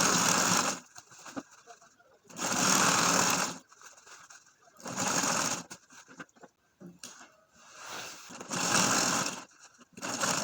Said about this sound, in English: Then you sew.